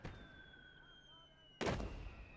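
Mortar fire in the Gates of Hell Ostfront World War II game: after quiet ambience with faint high tones, a single sharp, loud blast hits and then rings out.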